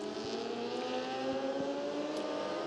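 A superbike engine drones steadily and fairly loud as the rider wheelies across the finish line, a sustained buzzing tone with faint repeated ticks and no talk.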